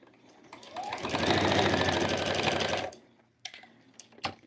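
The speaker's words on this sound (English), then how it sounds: "We're not going to leave the sewing machine." A sewing machine stitches fabric in one steady burst of rapid mechanical clatter lasting about two seconds, followed by a few short clicks.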